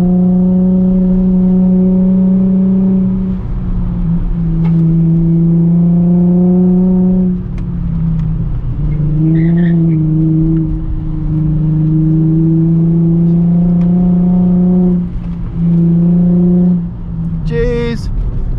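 A Nissan 350Z engine accelerates through gears on a canyon road, its loud droning tone rising and falling with the shifts, while people talk over it in the cabin.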